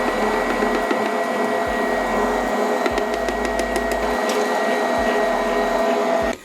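A stand mixer with a bread attachment churning cake batter loaded with figs, raisins and almonds, giving a steady loud motor whir with low rhythmic thumps of the hook working the thick batter, with no talking.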